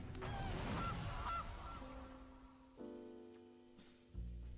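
Goose honks in a digital card game: a loud, close honking call opens and fades, followed by quieter tonal game chimes and a couple of short electronic cues, with no one talking.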